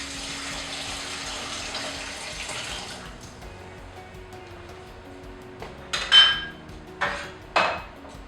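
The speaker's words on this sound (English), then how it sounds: "So drain off some of this water here." Water is poured off poached eggs in a pan, with a soft running wash at first that fades, then several sharp clanks of the pan and utensils close by.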